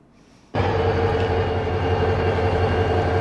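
In a video game, after a brief quiet moment, a train's rumbling roar starts abruptly and holds steady and loud, like a locomotive passing close by.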